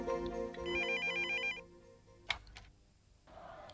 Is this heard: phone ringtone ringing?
yes